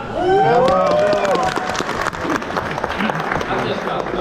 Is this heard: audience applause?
yes